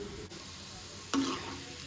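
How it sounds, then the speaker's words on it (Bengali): French fries frying in hot oil in a home kitchen, a soft steady sizzle with a brief stirring clatter partway through, close and quiet. "ফ্রেঞ্চ ফ্রাই একবার ভাজছি আর একবার দিলাম"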